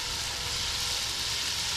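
White bass fillets frying in reused grease outdoors, a steady, dense sizzle and crackle holding at an even level throughout with no voices.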